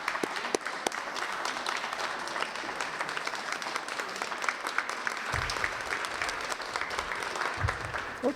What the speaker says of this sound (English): So everyone, please rise and give yourselves a round of applause.